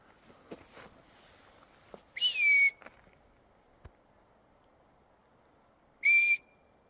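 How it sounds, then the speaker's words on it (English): Two clear rising-then-falling whistles sound high up in quiet woods, the first around two seconds in and the second near the end, with faint scattered snaps and taps between them. "Trust me, they're on seats whistling right now."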